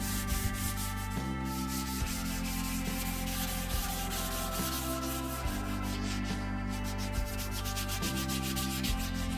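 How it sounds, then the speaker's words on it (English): Steady abrasive rubbing of a 220-grit sanding sponge on a wooden canoe paddle, continuous strokes with rhythmic shifts in pitch, close and fairly loud with no talking. "followed by a 220 grit sanding sponge"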